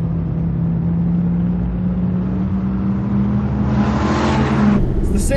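A 2016 Dodge Viper ACR race car engine at Virginia International Raceway, a loud, steady roar with a rising pitch as the revs climb, followed by a brief whooshing surge near the end.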